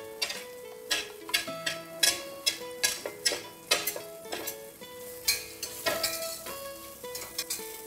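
Shiitake mushrooms and carrots fry in two tablespoons of oil in a wok, with a sizzle under repeated sharp clicks and scrapes of a utensil against the pan in an irregular, fairly steady rhythm.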